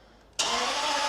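A classic 5-litre V12 car engine catches abruptly after a quiet moment and settles into a loud, steady idle close by, with no talking.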